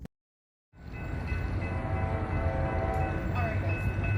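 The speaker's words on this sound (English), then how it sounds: "Ooh, nice horn. It's a hybrid K5LA." Norfolk Southern heritage unit 1066 in New York Central colours leads westbound intermodal freight train 21J through Homestead. After a brief silence its hybrid K5LA horn sounds a loud, sustained chord over the rumble of the passing train.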